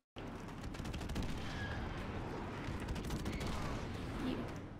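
Dense, sustained gunfire from a weapon in the video game Modern Warfare Remastered, continuous bursts layered into a loud, steady barrage that fills the whole stretch.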